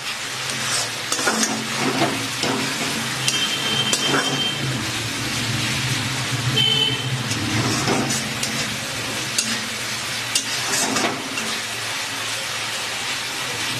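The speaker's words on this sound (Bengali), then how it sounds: "মশলাটা ভাজা হয়ে গেছে" Spice paste fries in oil in a pan for a pomfret fish curry, giving a continuous close sizzle broken by occasional stirring scrapes, with no talking.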